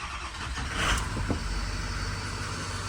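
A Ford F350 with a 6.0 Powerstroke diesel cranks briefly and catches, settling into a loud, steady idle rumble close by with no talk.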